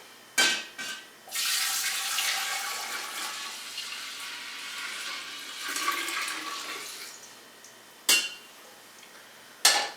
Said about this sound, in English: So now I'm just gonna pour the tea I just made into my SCOBY.